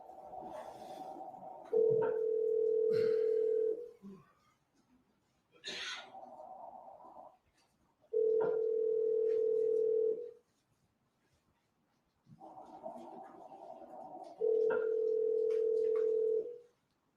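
Ringback tone from a wiretapped phone call ringing through to voicemail, heard as three long, steady rings separated by pauses, with a faint crackly line hiss and muffled noise between them.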